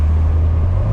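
The engine of a 1998 Mercedes-Benz SLK 230 roars loud and steady from inside the car, a brief, dense drone whose pitch climbs slightly as it accelerates.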